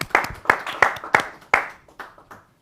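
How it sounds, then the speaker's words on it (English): A small group claps in short bursts, roughly six distinct rounds of hand claps spaced about a third of a second apart, fading toward the end, close and clear at a toy play set session. "We need more clapping,"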